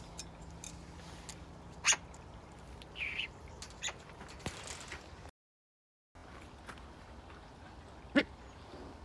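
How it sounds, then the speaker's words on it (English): A bird calls in a few short, sharp chirps spread across a quiet outdoor scene, with faint rustles and a brief break in the middle. "Oh, bird."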